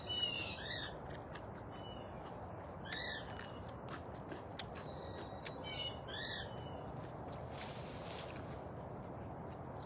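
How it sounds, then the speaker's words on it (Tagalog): Several birds squawk in harsh repeated bursts over a soft steady background hiss, moderately near, with no talking. "Nagsisigawan yung ibon."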